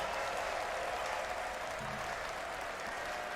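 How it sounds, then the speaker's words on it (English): The crowd at the Dota 2 ESL One Berlin Major 2023 lower bracket final, 9Pandas vs. Team Liquid, cheers and applauds in a large arena. The roar is steady and sustained, with dense clapping throughout. "The crowd is cheering"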